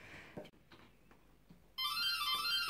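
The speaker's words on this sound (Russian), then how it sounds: "О, Владик, кто-то звонит к нам." A doorbell at a family home rings loudly and steadily for about a second after a quiet stretch with faint background sounds, a bright electronic chime filling the room.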